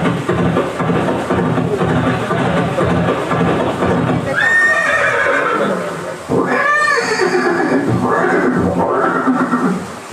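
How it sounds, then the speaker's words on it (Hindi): A horse neighs twice in a museum display of Maharana Pratap's horse Chetak, with loud whinnies rising over steady hoof clops and crowd-like background noise. "ये दृश्य महाराणा प्रताप और सुविख्यात स्वामी भक्त घोड़े चेतक के अंतिम मिलन का है।"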